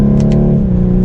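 Accelerating hard, the four-cylinder engine of a 2021 BMW 430i Coupe gives a loud, close, rising drone with two quick faint ticks early on, and nobody speaks.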